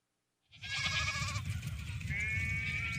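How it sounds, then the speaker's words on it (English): Sheep bleat loudly and close after a moment of silence, one wavering cry followed by another overlapping higher bleat, with a low rumbling background beneath. "my mic was off and the sheep were taking over"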